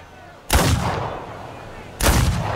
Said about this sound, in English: Two loud bangs interrupt my work